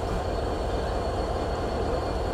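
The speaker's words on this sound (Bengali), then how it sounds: "আর এই যে আমাদের আজকের ট্রেনের লোকোমোটিভ 6620, যা সিরিয়াল নাম্বার।" Bangladesh Railway's Sagardari Express, hauled by American Progressive diesel locomotive 6620, gives a steady, moderately quiet rolling rumble with faint rail noise throughout and no voices.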